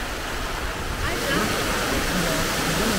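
Steady, dense roar of rushing water close by, continuous and unbroken throughout.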